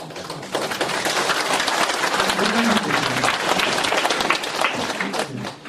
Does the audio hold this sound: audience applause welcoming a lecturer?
yes